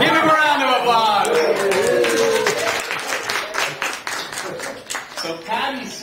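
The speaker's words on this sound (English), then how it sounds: "Give him a round of applause." Audience applause breaks out at a meeting, claps dense at first and then thinning to scattered hand claps, with voices talking over much of it.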